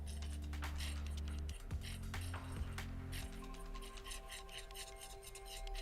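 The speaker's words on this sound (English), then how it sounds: "Just gonna use the same one to kind of buff it out everything, so then it's faster." A fine sanding band on an electric nail file buffs fingernails, a steady whining motor hum with raspy scraping as the band rubs the nail surface, close up with no talk.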